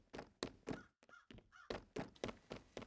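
A crow caws repeatedly in the video game Secret Neighbor, sharp close calls in a loose irregular rhythm with short gaps, mixed with a few thunks, heard alone.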